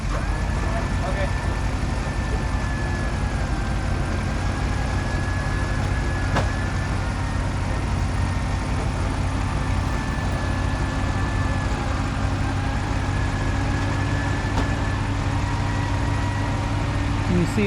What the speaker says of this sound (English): Oh, truck's coming up.